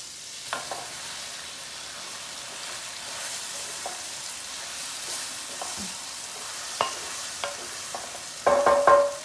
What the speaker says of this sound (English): That's about a teaspoon of namak. Let me stir it.